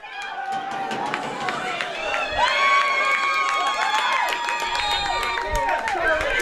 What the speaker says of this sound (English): This crowd erupts below us for Robbinsville.